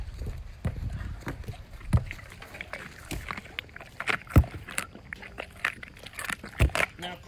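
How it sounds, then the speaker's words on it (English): Tigers, including a white tiger and two orange ones, crunch their food, giving a run of irregular, sharp close crunches and bites over a soft background. "Listen to the crunching going on."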